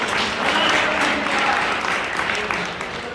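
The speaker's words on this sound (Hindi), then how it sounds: "आपने तो इतनी धनगोर तालियां बजाते" An audience at a Hindi poetry gathering (kavi sammelan) in Jalna breaks into dense, sustained applause, steady and loud throughout with a faint murmur of voices beneath.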